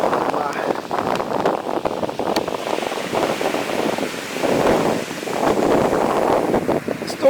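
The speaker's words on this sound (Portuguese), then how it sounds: "o som das águas do mar." Sea waves wash onto the beach at Itaparica island, heard as a continuous surging roar of surf mixed with gusty wind buffeting the microphone.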